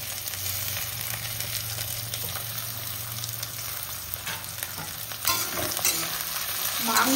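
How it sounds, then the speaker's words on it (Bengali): Six sliced onions fry in hot oil for a homemade mutton curry, a steady sizzling hiss running throughout with a low background hum, stirring scrapes growing louder and busier near the end. "সে কটা এই তেলের মধ্যে ভেজে নেব।"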